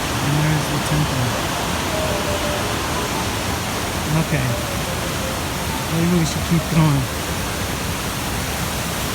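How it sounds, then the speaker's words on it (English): A small creek at Big Bend hot springs flows with a continuous broadband rush of water, moderately loud and steady, while people talk briefly over it. "Here's the little creek."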